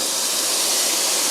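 Top round steak laid on a gas grill heated to 400 degrees Fahrenheit, giving a loud, steady broadband hiss of searing that holds evenly for about a second, with no talking.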